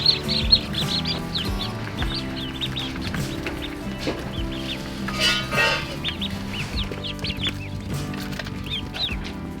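Jumbo Pekin ducklings peep in a dense, rapid chorus of high chirps from close by, steady throughout with no talking.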